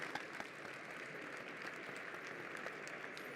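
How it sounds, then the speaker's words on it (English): Faint, distant audience applause after a speaker at a climate event session, soft continuous clapping with scattered sharper claps. "A warm applause for Paul."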